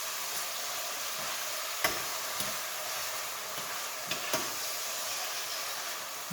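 Garlic sautés in a pan for a seafood Creole, giving off a steady, soft sizzling hiss broken by a few sharp clicks and taps of stirring.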